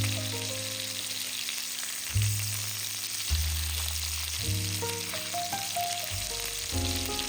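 Salmon fillets frying in olive oil in a pan, with a steady sizzle and crackle under a soft background tone and no voices.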